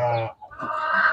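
Chickens clucking close by in a farmyard kept with sheep, a couple of loud nasal cackling calls with a brief pause between them.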